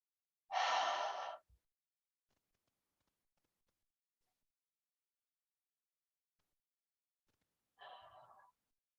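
A deep relaxing breath drawn in, then a long silence before a shorter, softer exhale, close and airy, in a calm guided breathwork session.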